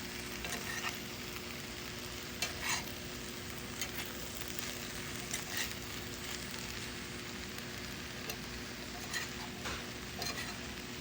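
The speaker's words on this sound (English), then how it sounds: "just so that I get that sizzle here" Vegetables sizzle steadily in a hot cast iron pan over slightly above medium heat, a constant crackling hiss with occasional louder pops and a faint low hum beneath.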